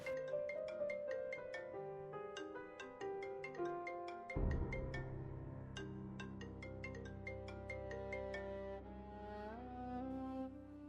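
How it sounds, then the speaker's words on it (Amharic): A phone ringtone plays a bright, repeating melodic tune steadily and fairly loud throughout, with a deeper tone joining partway through, no voices. "ስልክ እየጠራ ነው።"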